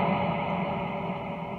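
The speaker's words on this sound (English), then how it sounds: "I then add a very, very over the top reverb" A guitar rings through a Blackstar ID Core combo amp with a very heavy reverb, a dense sustained wash that sounds like a huge cave, steady and even for the whole stretch.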